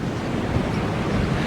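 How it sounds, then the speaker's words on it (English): Steady roaring wind on a beach during Tropical Storm Cristobal, with surf crashing underneath and heavy gusts buffeting the microphone, loud and continuous without any speech. "I can see that your shirt's blowing, so it's windy out there as well."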